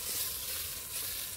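Fish stew in a pan sizzles steadily while it is stirred and shaken, a bright continuous hiss with no talk.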